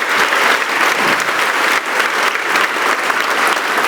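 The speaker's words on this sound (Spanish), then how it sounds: "Si lo crees, dale un aplauso más grande" Loud, sustained applause from a church congregation during a sermon, dense continuous clapping that holds steady for several seconds close to the listener.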